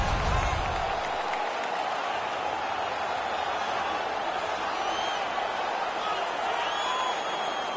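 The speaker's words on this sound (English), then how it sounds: "The crowd is ecstatic." Arena crowd in an ice hockey video game roars steadily after a Winnipeg player wins a fight, a loud sustained cheer filling the whole stretch with no break.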